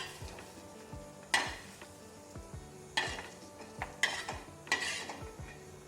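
Onion sautéing in oil in a pan on a village-style stovetop, with a soft steady sizzle and a few sharp utensil scrapes and clinks from stirring. The sound is fairly quiet and close, and nobody talks.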